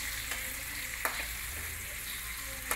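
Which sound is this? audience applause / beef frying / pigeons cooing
beef frying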